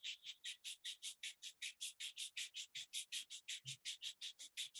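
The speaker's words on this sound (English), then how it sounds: "Rub your both palms." Palms rubbed briskly together during a yoga class, about two dozen even, rapid swishing strokes in a steady rhythm, close and alone with no talking.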